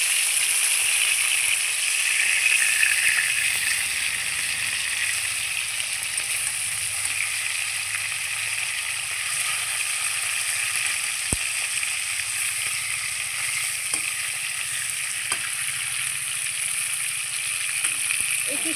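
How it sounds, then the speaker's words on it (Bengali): Pieces of fish frying in hot oil for a fish curry, a steady close sizzle running throughout with a few faint clicks, no talking over it. "এই পিসটা একটু ভেজে নেব"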